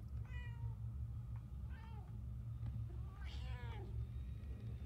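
A cat meows in Murdered: Soul Suspect, with three or four short rising meows spread over a steady low rumble of background ambience.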